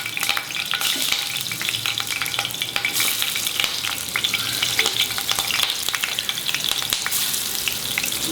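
Mutton kofta balls frying in ghee, a loud continuous close sizzle with constant crackle and sharp pops of spurting fat, no voices.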